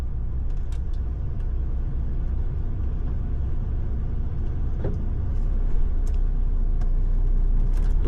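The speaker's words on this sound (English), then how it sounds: "Oh, got another car." A car passes along a narrow road near Low Grange Quarry, a steady engine rumble heard from inside a vehicle, swelling slightly toward the end.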